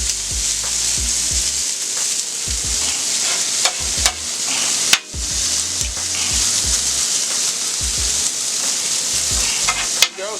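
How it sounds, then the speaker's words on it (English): Hash browns frying on a flat steel griddle while bacon and onions cook, a loud continuous sizzle close by, punctuated by repeated metal spatula scrapes and taps, no talking. "And I'm going to spread these hash browns out pretty thin."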